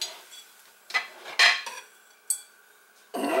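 Several separate clinks and clatters of pea soup ingredients and utensils landing in a large crock pot, with a louder rustling scrape at the end; no talking.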